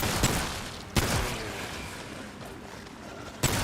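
Gunfire in the video game Remnant 2, shooting the legs off enemies: three sharp, loud shots spaced unevenly over a few seconds, with a rumbling game background between them.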